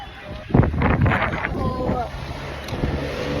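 Wind blowing outdoors near bikes, a rough, gusty rumble buffeting the microphone throughout, loud and close, with a voice talking over it.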